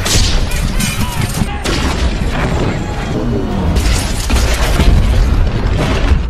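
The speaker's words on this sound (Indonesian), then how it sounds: "disambut dengan tembakan RPG dari pasukan Taliban" Rocket-propelled grenade fire and blasts from Taliban fighters in battle, loud heavy booms and crashing rumble filling the scene with dense layered impacts and a brief dip before another surge.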